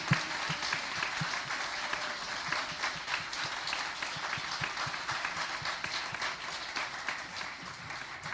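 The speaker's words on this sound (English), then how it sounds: "Let's give him a big round of applause for a job well done." A spelling bee audience applauds a primary-division student at a championship, steady dense clapping from many hands filling the room for the whole stretch, loud and continuous with no voices on top.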